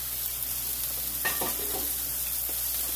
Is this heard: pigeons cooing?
no